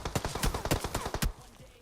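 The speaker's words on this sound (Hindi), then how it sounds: "वो लोग पहले स्मोक पे गोली चलाते हैं और अभी मेरे पे चलाएंगे" Rapid bursts of automatic gunfire in the battle game PUBG, a string of sharp close shots in irregular clusters over about a second, then cutting off abruptly.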